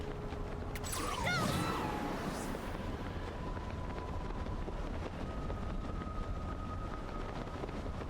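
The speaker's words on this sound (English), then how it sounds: "It's windy up here." Steady high-altitude wind in Zelda: Tears of the Kingdom, a constant broadband rush with faint whistling tones drifting over it throughout, after a brief burst of mechanical creaking near the start.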